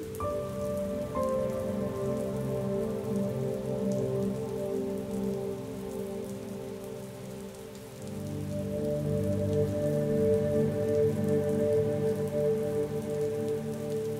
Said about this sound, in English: and rain.